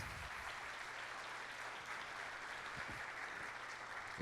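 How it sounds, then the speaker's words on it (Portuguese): Audience applause at an executive-of-the-year award ceremony, a steady sustained clapping from a crowd, fairly quiet and distant, running throughout without a break. "Uma salva de palmas, senhoras e senhores."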